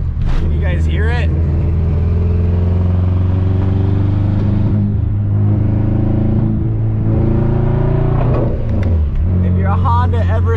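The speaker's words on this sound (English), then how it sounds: "If your Honda ever sounds like a Subaru, you know it's a misfire." An AWD Honda Civic engine with a misfire revs hard. Its loud, rough drone rises and falls close by, with a voice briefly heard over it.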